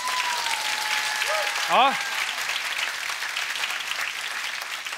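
Live audience applause at a podcast show at Poddfest 2023, sustained, dense clapping from a crowd throughout, with a brief spoken word and a short whistle near the start.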